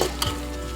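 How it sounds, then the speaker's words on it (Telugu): Carrot, beans, potato, cauliflower, mint and soya chunks for veg pulao are stirred in a hot pan, a brief scrape over a steady close sizzle. "ఇప్పుడు వీటిని మంచిగా కలుపుకోండి"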